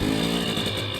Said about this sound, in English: So I'm gonna take you for a little quick spin on my 2024 TC 250.